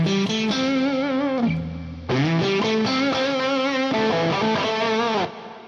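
An electric guitar plays a melodic lead line through a Fractal Audio FM9 modeler with an overdrive boost pushing the amp into a sustained, singing distorted tone, loud and alone with smooth bends.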